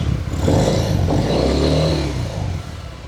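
A 2022 Harley-Davidson Fat Bob 114 motorcycle engine runs loud and close, a steady low rumble with slight throttle swells and no talking.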